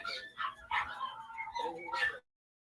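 Dogs bark and whimper close by in a short burst of yips and whiny cries that stops abruptly, followed by silence.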